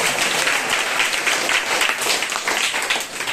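A church congregation claps together in sustained, dense applause at a prayer meeting, the sound loud and steady across the whole stretch with no voices standing out.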